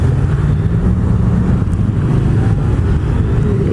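Riding a Yamaha MT-07 (FZ-07) two-cylinder motorcycle: a steady low engine drone under heavy wind rush, loud and continuous as the bike pulls along, with no talk.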